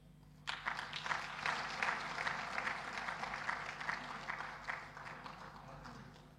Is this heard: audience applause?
yes